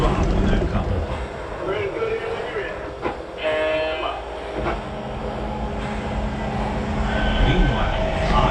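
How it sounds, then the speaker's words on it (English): A Lionel model train runs on a temporary layout track with a continuous rolling rumble and clatter, while a voice talks over it. "Train L743 is pulling into Wildwood"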